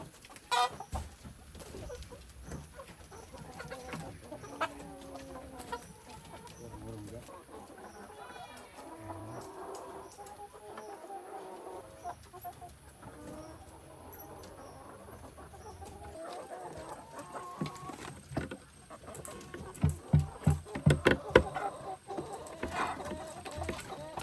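Domestic chickens, Dominant CZ breeders, cluck around a newly built nest box, with scattered close clucks and calls over a busy farmyard background that grows louder toward the end.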